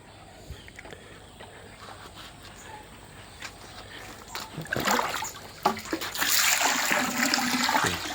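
Water being changed in a catfish pond or tank, with faint trickling that builds into louder splashing and pouring toward the end, a few thuds mixed in.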